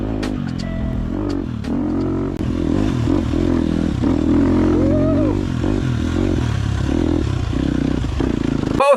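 A dirt bike engine, a Honda CRF 300L or Husqvarna 250 FE, revs and bogs close by, rising and falling in pitch with clattering and scraping from rough ground throughout.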